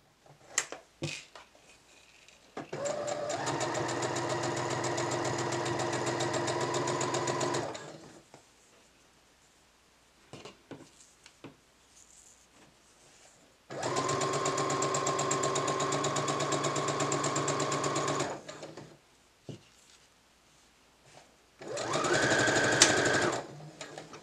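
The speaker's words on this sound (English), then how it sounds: "sew your underarm seams together" Sewing machine stitching the underarm seams of a kaftan with a 5/8-inch seam allowance, running in three steady bursts of several seconds each, separated by quiet pauses with light handling clicks.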